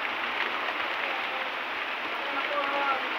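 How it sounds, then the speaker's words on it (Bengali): Heavy rain falling steadily after a night of rain, a dense even hiss that stays constant and fairly loud from start to finish with no pauses. "কালকে রাত থেকেই বৃষ্টি হচ্ছে,"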